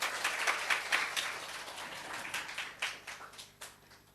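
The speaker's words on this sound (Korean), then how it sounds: "우리 하나님께 박수 올려드려요." A church congregation applauds during a Sunday sermon with fairly soft, slightly distant clapping that starts dense and thins into scattered, separate claps over about four seconds.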